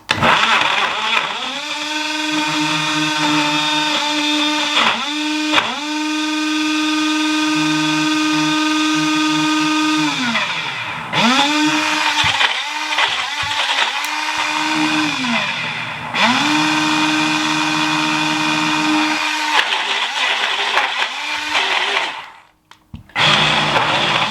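A Ninja Blast cordless blender runs its crush cycle in loud pulsing bursts, the motor whining up and down in repeated surges for about twenty seconds before stopping.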